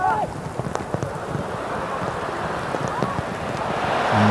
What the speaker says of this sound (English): it's still lashing down with rain. You can hear it as well in the background.